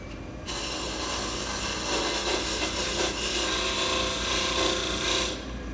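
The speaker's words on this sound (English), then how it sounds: "and then I can hit it with some sandpaper." Sandpaper pressed against turned wood spinning on a lathe gives a steady, loud, close rasping hiss over the motor's hum, lasting about five seconds before easing off.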